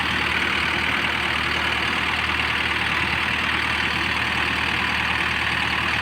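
A refrigerated van's compressor runs steadily and loudly alongside an idling engine, a constant even drone with no breaks and no talk over it.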